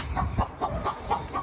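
Chickens on a small farm cluck in a close, soft, repeated rhythm of short calls, about six in quick succession.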